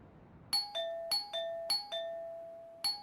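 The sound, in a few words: doorbell ringing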